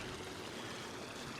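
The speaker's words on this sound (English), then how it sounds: "we've got a little bit of a stream going on." A small forest stream on a waterfall hike, steady broadband rushing and trickling water, close and continuous with no voices.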